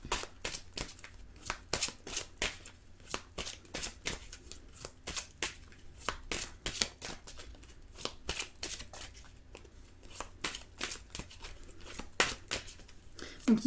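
Tarot cards being shuffled and drawn, a steady run of crisp riffling snaps and soft papery slides repeating close up over about fourteen seconds, with faint background talk in French.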